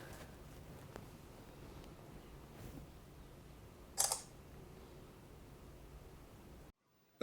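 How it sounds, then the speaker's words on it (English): An Oukitel C19 phone camera snaps a selfie, a single faint shutter click against quiet room hiss. "Take a first selfie,"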